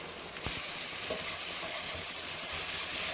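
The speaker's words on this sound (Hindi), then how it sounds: "और मसाले को अच्छी तरह मिक्स कर दें" Turmeric, cumin, salt, fennel and chili powder are stirred into softened tomatoes in a pan for an okra (bhindi) dish, producing a close, steady sizzle with a sharp spoon scrape early on.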